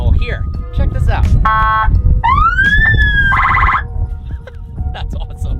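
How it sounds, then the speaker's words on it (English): Police siren tones switched on from the control panel of a bulletproof car cycle loudly and close by through wails, yelps and buzzing alerts, one after another, with someone talking underneath. "there are a series of police sirens that you can activate using the panel here"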